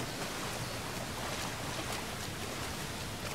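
A waterfall in the video game Uncharted 4 gives off a steady, hissing broadband rush of falling water, constant and moderately soft with no voices over it.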